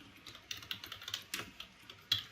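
Typing on a computer keyboard while entering customer details into a database form, with quiet, irregular keystrokes heard alone and one louder tap near the end.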